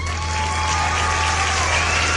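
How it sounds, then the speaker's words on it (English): A soundboard plays a short cheer effect: a dense, steady wash of crowd applause and cheering at even loudness. "Like we have the cheer."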